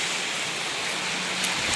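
Rain falls as a steady, even hiss of broadband noise close by, with no breaks across the short stretch.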